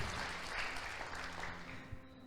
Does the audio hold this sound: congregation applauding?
yes